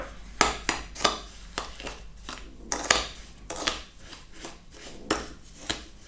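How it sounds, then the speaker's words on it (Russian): Softened butter is rubbed with sugar in a bowl by hand, giving repeated scraping strokes and sharp knocks of a utensil against the bowl in an irregular rhythm. Close and fairly loud, with no talking. "Размягченное масло растираем с сахаром."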